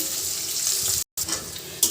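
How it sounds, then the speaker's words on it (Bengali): Sliced onion crackles and sizzles loudly in oil left over from frying nala fish, with stirring scrapes throughout and a short break in sound near the middle. "এখন মাছ ভাজার তেলে পেঁয়াজটা দিয়ে দিলাম।"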